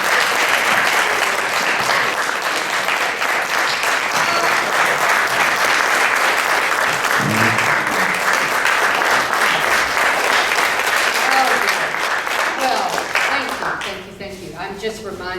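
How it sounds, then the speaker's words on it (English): Sustained audience applause fills a symposium hall, dense and steady for about thirteen seconds before fading as a voice begins to speak near the end. "lest I get too thrown off by all that applause"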